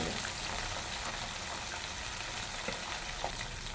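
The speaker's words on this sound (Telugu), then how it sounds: "అన్నీ ఈ రకంగా వేపేసుకోవాలండి. టైం పట్టుద్ది, మెల్లిమెల్లిగా వేపుకోవాలి" Chicken drumsticks deep fry in oil, giving a dense, steady sizzle with fine crackles and occasional pops, close and continuous with no talk.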